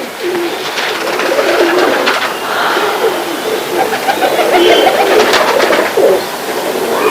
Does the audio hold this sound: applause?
no